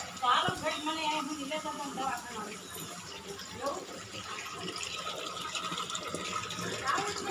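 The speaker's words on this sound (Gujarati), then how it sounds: "પીવાનું પાણી આવે છે." Drinking water pumped by a motor pours from a tap, a steady splashing flow with a faint hum, heard while someone talks over it.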